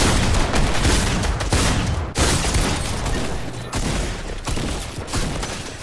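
Automatic weapon fire in Fortnite: loud, dense bursts of rapid shots that roll on almost continuously, broken by a few brief gaps.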